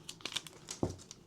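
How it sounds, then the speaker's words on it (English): Paper is folded into thirds and taped down to ship trading cards in a plain white envelope, giving quiet, close crinkles and short rustles with one sharper crackle partway through. "So I just fold it up in 3 and tape it down."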